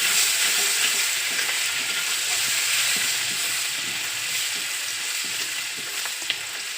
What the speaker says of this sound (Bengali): সব মশলার সাথে আমি একটু ভেজে নেব।